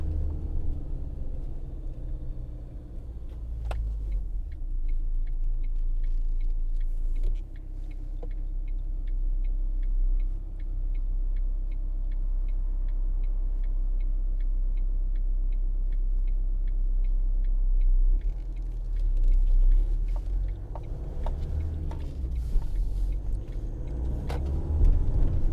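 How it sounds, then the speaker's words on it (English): A 2012 Ford Transit 2.2 TDCi van pulls uphill with no pedal input, a steady low diesel rumble and road roar dominating throughout, with a faint regular ticking, likely the indicator, for a stretch in the middle. "I haven't got my foot on the clutch or the accelerator, and it's pulling uphill."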